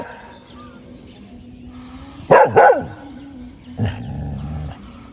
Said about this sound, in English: I don't want you barking all day, every day.